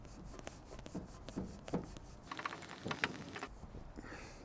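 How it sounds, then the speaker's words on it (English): Metal polish worked by hand with a used carbon fiber towel on the Super Sprint exhaust tip of a V8 BMW E39 M5, soft close rubbing and scrubbing strokes with light squeaks and irregular faint scratchy bursts. "Now break out some metal polish and slightly used carbon fiber towel"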